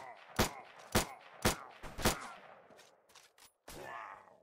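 Gunfire in a Minecraft mod game: several sharp, separate shots spaced about half a second apart, loud and close, then a few fainter bursts and a brief rattle at the end.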